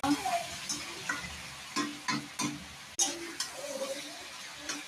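Fresh tomato curry sizzles and fries in a pan, with intermittent stirring scrapes and clatters over a steady crackle.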